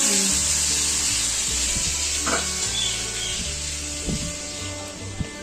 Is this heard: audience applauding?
no